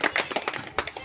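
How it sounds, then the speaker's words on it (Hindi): Scattered hand claps from a small audience at an album release event, a few brief claps close by with slight background voices. "एक तालियां तो कम से कम लगनी चाहिए।"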